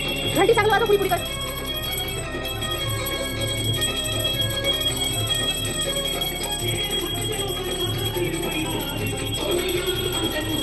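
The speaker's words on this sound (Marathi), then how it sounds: "घंटी चांगलं वाजव, पुढे कर।" A handheld puja bell rings continuously during a Hindu home pooja for Mata Rani, its steady metallic ringing running through the whole stretch amid chanting voices, cymbal-like clatter and household noise.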